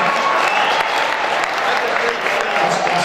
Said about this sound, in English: Come on, clap one time